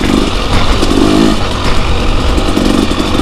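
Motorcycle engine riding on a trail, loud and close, a steady rough mid-range drone that rises and falls slightly as the throttle shifts.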